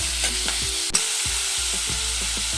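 Potato and onion filling stir-fried with salt in a hot pan, a steady close sizzle broken by several spatula scrapes and one sharp clank against the pan.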